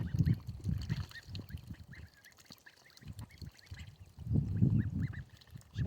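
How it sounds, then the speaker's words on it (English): Ducks on an off-grid homestead quack and honk in noisy bursts around a water bucket, loud and close at the start and again near the end, with a quieter patch of scattered calls in between. "Because, you know, they're ducks."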